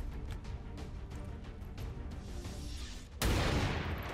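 Gunfire in the video game XCOM 2 Long War 2, a sudden loud blast near the end that cuts in sharply after a stretch of low rumbling ambience and faint clicks.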